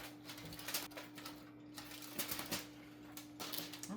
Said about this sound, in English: I am just now gonna take off the foil here